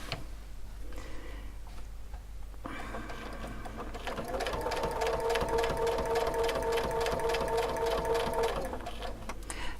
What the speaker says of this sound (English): I'm using a Brother Dream Creator, which is a high shank machine.